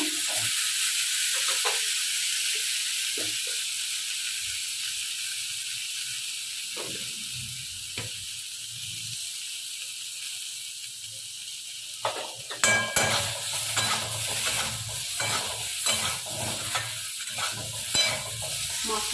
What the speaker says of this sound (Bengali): এই যে আলুগুলোকে একটু ভেজে নিচ্ছি